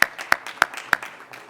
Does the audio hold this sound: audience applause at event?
yes